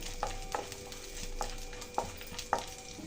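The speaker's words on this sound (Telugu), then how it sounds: "ఇప్పుడు ఫస్ట్ జీడిపప్పు, బాదం వేసుకోవాలి. దీన్ని ఫ్రై చేసుకోవాలండి నెయ్యిలో." Cashews and almonds frying in hot ghee give a soft steady sizzle, with a few sharp stirring scrapes and clinks spaced about half a second to a second apart, close and fairly quiet, with no talking.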